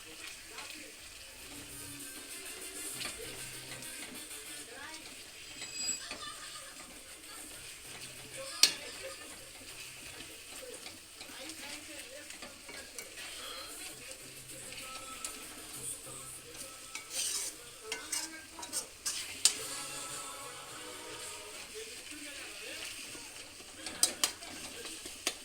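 A spoon stirs and spreads thick gravy in a pan with steady scraping strokes over a soft sizzle, carrying on for a long stretch with occasional sharper clinks against the pan.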